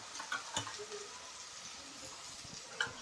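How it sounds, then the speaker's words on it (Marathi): Finely chopped onions with green chilli and a pinch of salt sauté in a pan, a faint continuous sizzle with a few soft clicks of the spatula. "लालसर होईपर्यंत परतून घ्यायचा आहे कांदा।"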